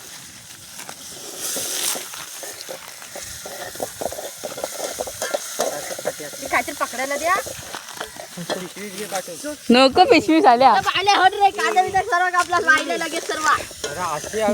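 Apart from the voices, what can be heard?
spices tempering in hot oil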